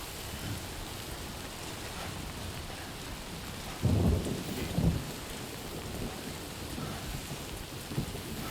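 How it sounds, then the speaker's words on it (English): Steady rainfall in the video game Death Stranding 2 with a loud thunderclap rumbling midway and a softer follow-up roll, the downpour continuing around it. "It's raining."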